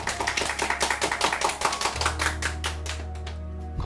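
A school hall crowd of students and guests claps for the principal's new-semester speech, a brisk rhythmic patter of hands over a low steady hum, fading near the end.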